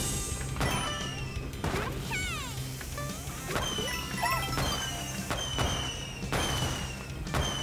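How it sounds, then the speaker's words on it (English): Small firecracker blasts in the Super Mario Bros. Wonder video game, a series of sharp cartoonish pops and crashes every second or so, layered over bright game music and chimes. "Little firecrackers, nothing wrong with that."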